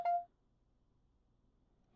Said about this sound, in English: What does that beeping mean?